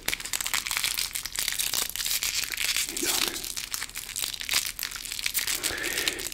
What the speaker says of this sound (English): I have some crinkly paper.